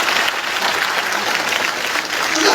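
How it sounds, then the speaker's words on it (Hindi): An audience claps loudly and steadily, a dense wash of applause that carries through without a break. "एक बार जोरदार तालियां प्रोडक्ट के लिए।"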